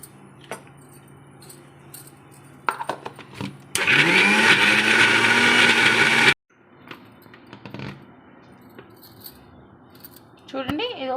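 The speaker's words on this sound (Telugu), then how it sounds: "పైన పొట్టు తీసేసి మనం కొంచెం దీంట్లో ఒక 3 స్పూన్స్ కర్డ్ వేసుకొని మిక్సీ పట్టుకోవాలి." A mixer grinder roars loudly for about three seconds, grinding soaked cashews, almonds and curd into a paste for mutton marag, surrounded by handling clatter and jar noises before and after.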